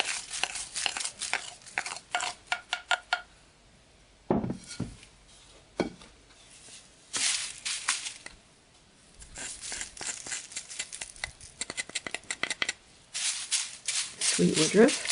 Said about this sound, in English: Now we're going to mix all our dry ingredients together.